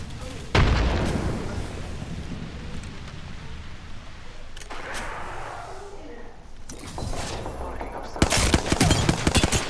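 A grenade detonates in Apex Legends on Kings Canyon, a sharp blast followed by bursts of gunfire and a second loud explosion near the end, with a player talking over the combat.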